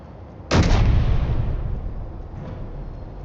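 A heavy assault cannon in a video game lets off a single booming blast that rolls into a long decaying rumble, loud and close, with no talk over it.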